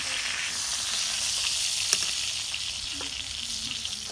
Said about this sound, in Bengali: মাছ ভাজা আমার হয়ে গেছে এখন আমি নামে নেব